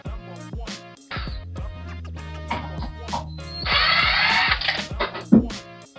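A 7mm socket on a tool backs out carburetor bolts on a weed eater, making short whirring and ratcheting bursts with a louder, sustained spin near the end.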